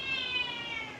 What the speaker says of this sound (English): my cat and dog are arguing with each other.